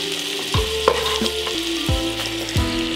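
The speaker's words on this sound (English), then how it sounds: "So what I'm gonna do is take all my onions and I'm gonna throw them into the pot. Do a nice stir fry." Onions stir-fry in a hot pot for Philly cheesesteak, a loud continuous sizzle broken by several scraping stirs at roughly regular intervals, close and clear with no talk.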